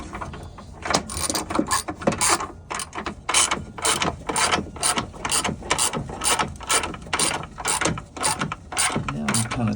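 Bolts on a Pentair MasterTemp pool heater bypass assembly being tightened down with a ratchet, a close, steady run of rapid clicking bursts repeating in quick rhythm for several seconds.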